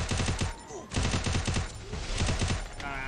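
Rapid bursts of automatic gunfire from a video game, loud and continuous, with brief gaps between volleys and a Portuguese-speaking voice faintly underneath.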